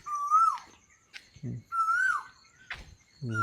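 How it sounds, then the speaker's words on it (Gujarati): An Asian koel repeatedly calls with rising whistled notes, three clear calls spaced across a few seconds, fairly close, in a village near Botad, Gujarat, with faint low background sounds between them. "કોયલ બોલે છે"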